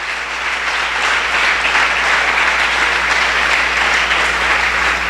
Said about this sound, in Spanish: ¿Por qué no les mandamos un fuerte aplauso a ellos para que se animen?